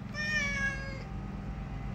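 A single drawn-out meow from a cat that has just been fed, close and clear, fading into quiet background.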